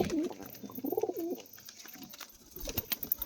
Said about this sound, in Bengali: ফুলশিরা পায়রা।